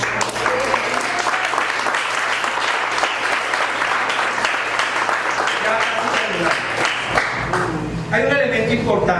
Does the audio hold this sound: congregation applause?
yes